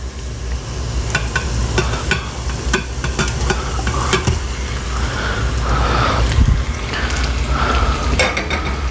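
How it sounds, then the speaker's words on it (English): Italian sausage, a pound of it, frying in an Instant Pot while a utensil stirs and scrapes through it: steady close sizzle with repeated clicks and scraping strokes, no talking. "I'm gonna add in a pound, like I said, of the Italian sausage."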